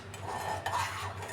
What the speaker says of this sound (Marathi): आणि याला मिक्स करत राहायचं आहे लो गॅस करून.